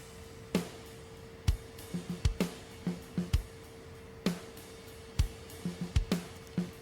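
A drum mix plays back with sparse, punchy kick and snare hits and lighter taps in a loose rhythm, fairly quiet, over a faint steady hum.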